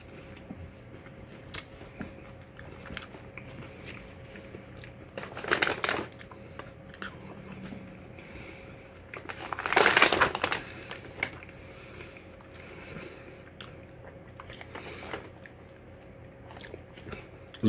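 Crisp bites and crunchy chewing of a chocolate Rice Krispie crunch bar from Tim Hortons come in two main bursts close to the mic, between quieter stretches of faint clicks and room noise.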